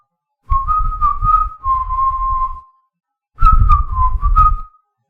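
The whistled Eye on Springfield theme from The Simpsons, a tune in two phrases, clear and close, with a short pause between them and no talk around it.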